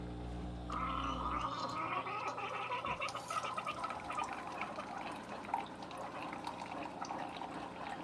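Keurig and Cuisinart single-serve coffee makers brew together, a low motor hum giving way to gurgling, dripping and trickling liquid, fairly faint and continuous.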